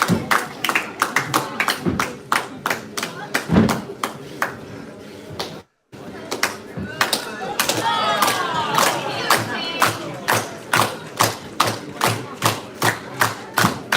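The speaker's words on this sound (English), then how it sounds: "Crowd rallying behind the breaker" A wrestling crowd at a pro wrestling show claps in a steady rhythmic beat, with cheering swelling in the middle. A commentator talks over it and there is a brief drop-out.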